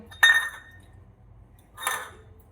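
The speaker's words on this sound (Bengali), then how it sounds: "বাসনপত্র ধুয়ে মেজে কমপ্লিট হয়ে গেছে" Washed dishes clink together twice, a sharp bright clatter followed by a softer second knock after a short pause, close by in an otherwise quiet kitchen.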